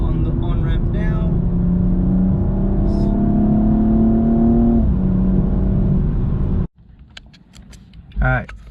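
A 2014 BMW 235i Coupe accelerates up an on-ramp, heard from inside as a loud, steady engine drone rising in pitch before a gear change; the sound then cuts out abruptly and a voice speaks near the end.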